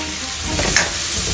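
Tomato goes into hot oil with browned onions in a pan for Kerala-style sambar, and a steady close sizzle and crackle of frying continues throughout, with a faint stir midway.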